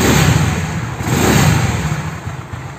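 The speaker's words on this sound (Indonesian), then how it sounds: "Knalpot headnya juga udah adem, headnya kita geber coba." A carbureted Honda Beat scooter engine, fitted with new valve rocker arms and pin, revs hard up close, a loud throaty roar that rises, eases, then surges again.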